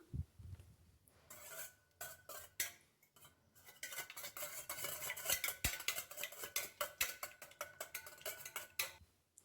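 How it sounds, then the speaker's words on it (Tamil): A utensil clinks and taps against a bowl in quick, irregular strokes while an egg is beaten for a wheat-flour honey cake, faint at first and then busier and steadier. "இப்போ இந்த முட்டையை நல்லா அடிச்சு விட்டுக்கலாம்"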